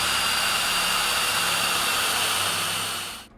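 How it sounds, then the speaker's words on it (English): A power drill bores holes for the lock cylinder, thumb latch and handle spindle in a wooden entrance door, giving a steady, loud whining drone that holds evenly for about three seconds before stopping abruptly. "Now I have to mark and drill a series of holes for the various mechanisms"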